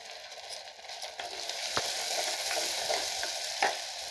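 Onions sizzle softly in a pan for fish curry with a steady crackle, broken by a few light clinks and scrapes of stirring.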